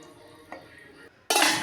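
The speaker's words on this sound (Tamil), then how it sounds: "கிரேவியை மூடி போட்டு மூடி வச்சிடலாம்." A pot lid is set down over a pan of okra gravy, giving a soft metallic clink followed by a sudden loud hiss of sizzling steam under the lid.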